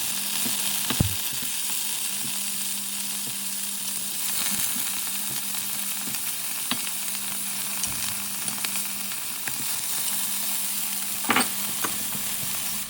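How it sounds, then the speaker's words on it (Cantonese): Tofu frying in oil in a pan, a steady broadband sizzle running the whole time with a faint low hum and a few sharp crackles and pops scattered through, fairly quiet and with no voices. "落啲油落去，我哋煎到啲豆腐金黃色。"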